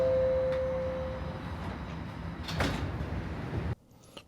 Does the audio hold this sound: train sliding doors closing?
yes